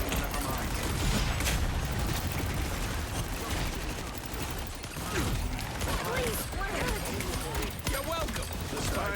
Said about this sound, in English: Time for some fireworks.